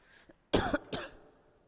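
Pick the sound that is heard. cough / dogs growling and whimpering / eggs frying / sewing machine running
cough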